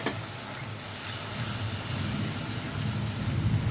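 Water poured into a hot pan of yogurt bhola fish curry (doi bhola kaliya) bursts into a continuous broadband hiss and sizzle that swells slightly and holds steady.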